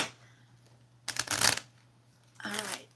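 A deck of playing cards being shuffled in two bursts: a dense, loud riffle of snapping cards followed by a shorter, softer flutter, over a low steady hum with no talking.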